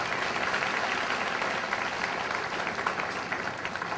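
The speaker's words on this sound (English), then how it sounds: "Have another big round of applause for them all" An audience at a para equestrian event claps in sustained, dense applause, steady and fairly loud, thinning slightly toward the end.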